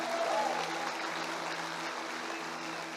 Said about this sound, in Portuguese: Dê um aplauso a Jesus por esse casal lindo